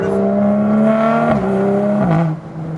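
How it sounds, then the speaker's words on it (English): A BMW M235i exhaust revs with a loud, deep droning tone that rises and dips between gear changes, close and powerful. "hope you enjoyed the sounds of that exhaust"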